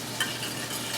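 Salad dressing being stirred and beaten in a bowl, a brief continuous scraping swish close by.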